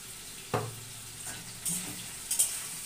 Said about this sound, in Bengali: পেঁয়াজের সাথে চিকেনটা একটু ভেজে নেওয়া।